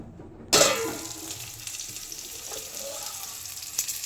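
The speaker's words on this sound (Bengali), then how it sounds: "এখন একটু চিকেন নাগেটস ভাজছি" Chicken nuggets frying in a pan of oil, a sudden sizzling burst that settles into a steady crackling hiss with small pops, close and moderately loud, no talking.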